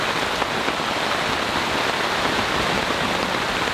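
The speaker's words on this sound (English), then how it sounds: "Heavy, heavy, heavy, heavy rain is falling right now." Heavy rain pours down on a campsite in a storm, a loud, even hiss of dense drops with no pauses and no talking.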